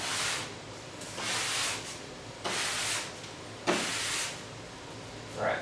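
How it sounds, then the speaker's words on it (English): A nylon brush is pushed hard across a snowboard to scrape off rub-on wax, four long, rough rasping strokes with short pauses between them, fairly close and loud, with no talking. "just tip the tail, a lot of pressure, and just scrape any crap off the board"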